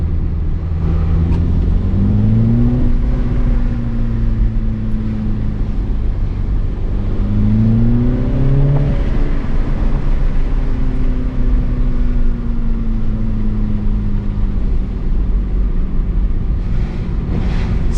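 A MINI Cooper S climbs a steep mountain road under hard throttle, its engine note rising and falling in long revving sweeps over steady road and wind roar, loud and continuous throughout.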